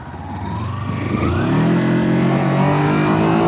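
A loud Kawasaki Versys X 300 motorcycle engine steadily revving higher as it accelerates on a top speed run, its drone rising in pitch and holding strong throughout.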